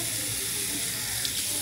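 Warm water runs steadily from a bathroom tap while someone rinses cleanser off their face, making a close, continuous splashing hiss with no talking.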